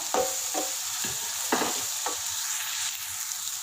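Onions sizzle steadily in a hot pan while a utensil scrapes and stirs in several short strokes, close up.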